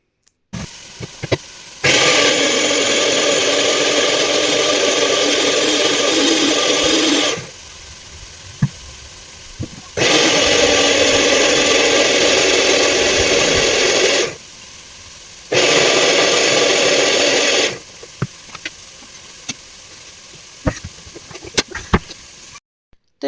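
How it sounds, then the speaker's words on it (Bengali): A kitchen mixer grinder whirs loudly while grinding spices, with cumin mentioned, in three sustained bursts of several seconds each, separated by short pauses. "ওদিকে মশলাটা একটু ঘুরিয়ে নিলাম মিক্সিতেই"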